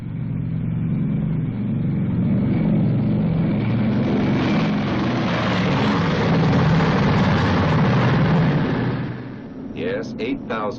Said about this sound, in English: And those are its 4 Wright 3350 engines.